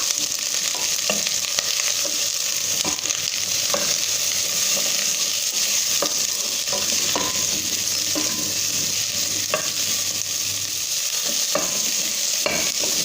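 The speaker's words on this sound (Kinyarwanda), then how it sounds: "Noneho ngiye kuvanga kugira ngo hose hagireho amavuta." Ingredients being stirred through oil in a hot frying pan, a constant sizzling hiss with repeated scraping and clinking strokes of the utensil at irregular intervals, close and clear with no talking.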